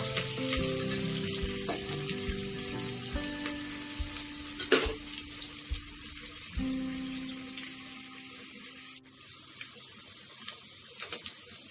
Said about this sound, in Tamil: நல்லா கிளறிடலாம் வெங்காயம் பொன்னிறமாக வரணும்